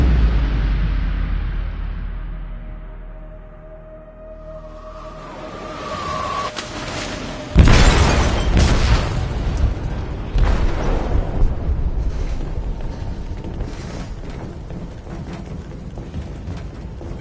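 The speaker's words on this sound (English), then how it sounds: "They detonated an explosive in the hold." Explosion detonated in a ship's hold in the Detroit: Become Human video game: a deep, heavy boom that bursts loud and close, then rolls into a long rumbling wash of debris and roaring noise, after a quieter low-rumbling stretch.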